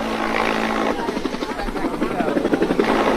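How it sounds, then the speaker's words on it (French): Giant military helicopters landing two at a time on the roof of the US embassy in Saigon during the evacuation, a steady loud rotor thrum with chopping pulses that grow stronger over time, with voices heard underneath. "sur le toit duquel se posent deux par deux les hélicoptères géants"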